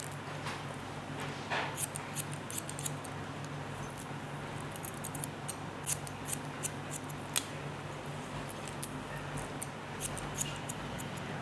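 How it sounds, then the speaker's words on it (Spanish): Scissors cutting hair at a salon, a steady stream of quick, crisp snips repeating irregularly over a faint background hum, close and fairly soft, no voices. "Aquí sí estoy utilizando la tijera y después posiblemente lo texturizaré también con la navaja"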